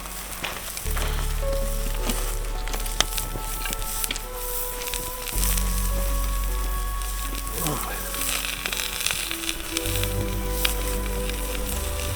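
Onions fry in a pan at a winter campsite on an Alaskan gravel bar, giving a steady, close sizzle and crackle that runs throughout beneath people talking.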